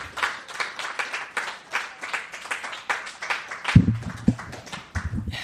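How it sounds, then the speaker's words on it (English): A live audience at a storytelling event applauds as a regular performer walks up from the back, a steady wash of close, dense clapping throughout with a few sharper claps and thumps near the end. "It's too much time for the clapping"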